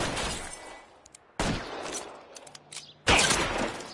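Gunshots in L.A. Noire: three loud, separate shots land about a second and a half apart, each leaving a short ringing tail, with quieter clicks and thuds between them.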